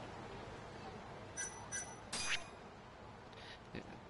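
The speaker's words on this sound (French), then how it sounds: "C'est mon téléphone hein, qui fait ça" A phone message notification in the video game Judgment: a few short, bright chiming tones in quick succession, the last one slightly longer, over a faint steady background.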